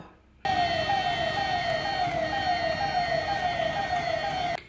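A loud electronic ambulance siren wails continuously in rapid rising sweeps in Sullia, starting abruptly and holding steady before cutting off.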